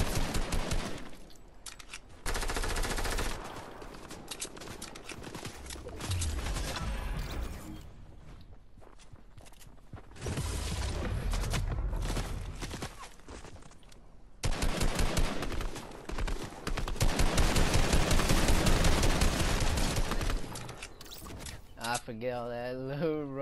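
Rapid bursts of gunfire from the video game Fortnite, loud and dense, come in long stretches separated by brief lulls, with players' voices talking over the shooting.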